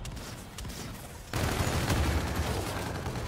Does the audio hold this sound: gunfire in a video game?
yes